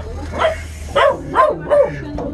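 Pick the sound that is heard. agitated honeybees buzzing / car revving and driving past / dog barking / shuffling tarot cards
dog barking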